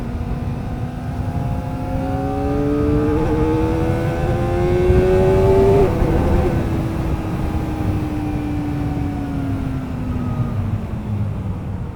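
A Kawasaki ZX-4RR motorcycle with a quick shifter climbs high through the revs, its engine whine rising steadily then dropping sharply at a shift before climbing again, loud and close, with no talking.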